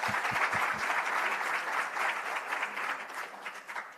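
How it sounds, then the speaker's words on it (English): An audience at an academic research symposium applauds steadily, a dense wash of clapping at moderate distance, with a few distinct thumps at the start. "Can we please give him a round of applause?"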